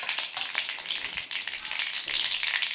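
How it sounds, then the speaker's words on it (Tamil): Mustard seeds crackle and pop in hot oil for mango rice, a dense, steady sizzle with sharp little bursts throughout, close and alone. "இப்போ எண்ணெய் சூடாகிடுத்து. கடுகு, இப்போ கடுகு நல்லா பொரிஞ்சு போச்சு."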